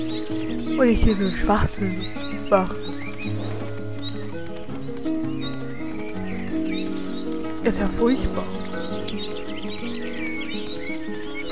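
Within the horse-riding video game Mein Pferd, a horse whinnies in a few shrill bursts over ongoing hoof clip-clop and game music, while someone talks throughout.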